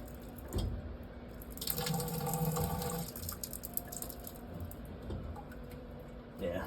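Water runs and splashes from a leaking commercial Chicago faucet with a failed cartridge, its hot side not closing fully; a faint, close trickle swells and fades in short bursts.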